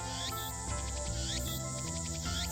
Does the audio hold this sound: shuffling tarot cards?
no